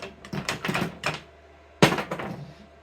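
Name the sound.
trimming the wire of a General Electric ballast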